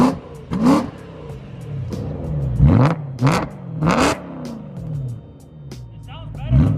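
A BMW E92 M3 V8 engine with a newly installed loud exhaust, revved several times in sharp bursts that rise and fall, close by, with people talking between the revs.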